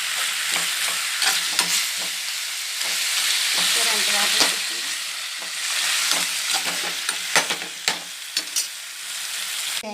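Steady sizzling of tamarind and leaves frying in hot oil for a chutney, with scattered clinks and scraping of stirring throughout, close and fairly loud.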